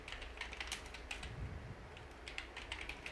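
Light, quick keystrokes on a computer keyboard during data entry in Tally ERP 9 accounting software, a rapid string of clicks close by in a quiet room.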